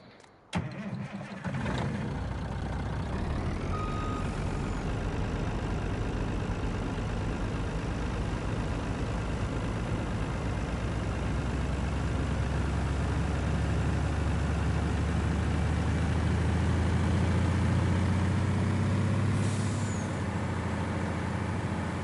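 Truck engine in Farming Simulator 19 cranks and starts with a sharp burst, then settles into a steady rumbling idle that grows slightly heavier and louder, continuous and close with no voices.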